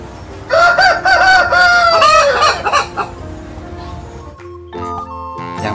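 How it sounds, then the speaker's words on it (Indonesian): A rooster crows loudly and close by, then clucking follows, ending in a few short, sharp animal cries. "Widih, ini ayam."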